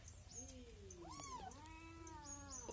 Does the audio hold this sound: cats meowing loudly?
yes